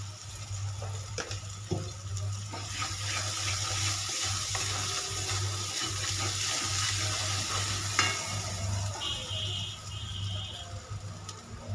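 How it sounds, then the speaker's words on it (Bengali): Spice masala for paneer and pointed gourd being sautéed in a pan, a continuous close sizzle broken by scraping stirs and a few clinks, with no talk. "খুব ভালো করে কষিয়ে নেবো।"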